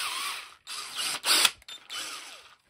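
Chuck of a Bauer 20V cordless 3/8 in. right angle drill being tightened by hand on a spade bit: a few short bursts of close ratcheting clicks separated by brief pauses.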